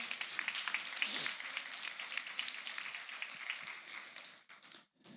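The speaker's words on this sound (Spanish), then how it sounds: "Le damos un aplauso al Señor muy fuerte." A church congregation claps loudly in praise, a dense burst of clapping that fades out over about four seconds before a brief pause.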